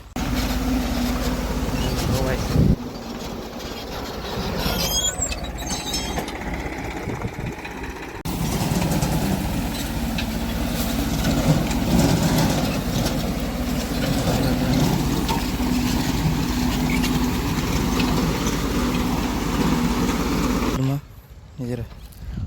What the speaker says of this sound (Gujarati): અને હવે આ બાજુ ઊભું ટ્રેક્ટર આવે છે